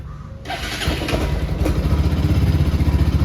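A 2025 Bajaj Pulsar RS200 motorcycle engine, unstarted for many days, cranks and catches, then settles into a loud, rapid, throbbing idle close by.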